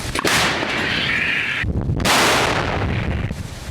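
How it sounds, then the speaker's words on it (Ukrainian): Two powerful, booming artillery cannon blasts ring out about a second and a half apart, each leaving a long rumbling roar, loud and close. "Гармата!"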